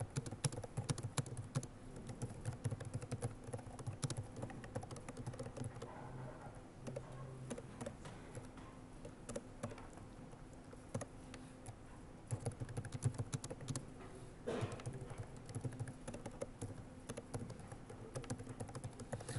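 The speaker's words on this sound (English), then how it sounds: "Notice that I'm typing this part of the loop from memory." Code is typed on a computer keyboard, with a long run of quiet, irregular key clicks and taps of varying speed, heard close up and with no voices.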